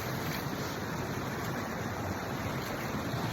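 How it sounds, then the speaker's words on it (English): A small creek on rural property rushes steadily in winter. It is a soft, even wash of flowing water with a faint windy hiss and no voices. "look at the beautiful creek behind me on my property"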